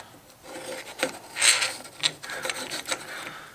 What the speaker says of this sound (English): we're going to start screwing this in, our buffer tube assembly